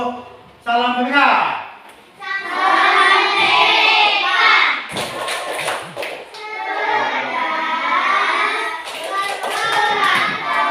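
A school class runs through the 'salam merdeka' clap routine, chanting together with brief bursts of clapping between stretches of loud group voices.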